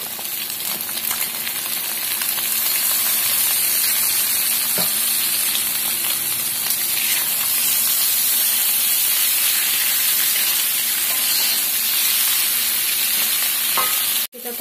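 Bok choy hits a hot wok for mie goreng, setting off a loud, steady sizzle and hiss of frying and steam that runs unbroken for the whole stretch, with no voices over it.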